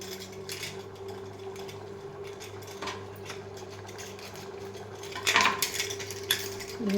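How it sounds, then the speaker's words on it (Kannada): A metal pressure cooker lid is closed for cooking vegetable kurma on a large kitchen stove, with light clinks and a sharper metallic clatter near the end over a steady low hum. No one speaks. "ಕುಕ್ಕರ್ ಕ್ಲೋಸ್ ಮಾಡಿ 3 ವಿಸಿಲ್ ಬರ್ಸೋಣ."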